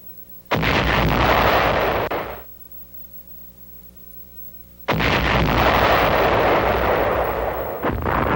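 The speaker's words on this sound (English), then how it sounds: "My cups are exploding." Two loud, sustained bursts of blasting noise, like exploding cups in a homemade film experiment, each roaring for a couple of seconds with a quiet gap between them.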